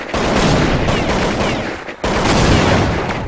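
Rapid automatic spraying in a first-person shooter, a loud unbroken stream of shots with a brief dip partway through before the fire resumes at the same intensity.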